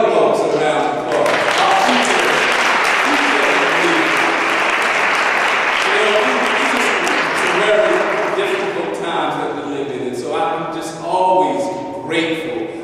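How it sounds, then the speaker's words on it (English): An audience at an NAACP event applauds young people in a sustained, loud round of clapping that tapers off toward the end, with a voice speaking over the final moments. "Please, let's give the young folks a round of applause."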